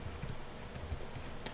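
A few soft, sharp computer mouse clicks, including right-clicks, sound sparsely over quiet room noise while working in KeyShot 3D rendering software.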